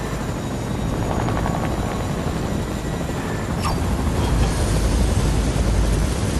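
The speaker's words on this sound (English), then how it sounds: "That's your helicopter? This is my helicopter." A helicopter in the video game Fortnite, its rotor and engine producing a loud, steady, close droning roar that fills the whole stretch without a break and with no talk over it.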